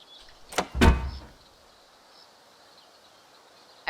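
A trap door in the video game Boundless snaps shut with a sharp, close double clack and a short thud, followed by quiet and a faint click at the very end.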